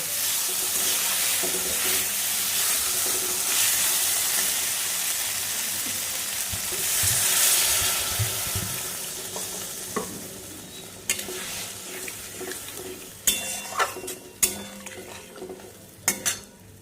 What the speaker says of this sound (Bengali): খুব ভালো করে দেখো কষে নিয়েছি মশলা আর আলু। এবার আমি এর মধ্যে জল দিয়ে দেব।